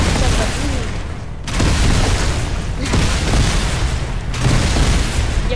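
Loud gunfire and booming shots in the video game The Backrooms, long dense bursts of firing broken by brief pauses.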